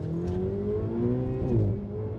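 A Ferrari engine, valued at £150,000, revs up toward its 8,000 RPM redline from inside the cabin, a strong rising tonal drone with climbing harmonics and no talking.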